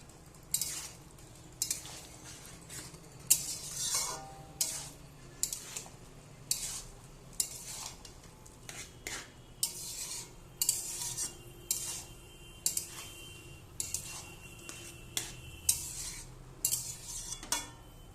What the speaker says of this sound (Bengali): ডাল দিয়ে একটু ভালো করে নেড়ে নেব।